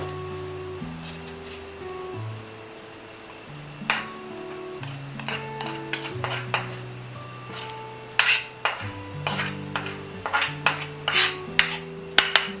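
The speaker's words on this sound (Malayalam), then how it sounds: "ഇനി നല്ല പോലെ ഒന്ന് ഇളക്കി കൊടുക്കണം." A spoon scrapes and clinks against a pan while panikaram is stirred, a loose series of sharp metallic taps that grow busier and louder toward the end, heard alone under a steady melodic background tone.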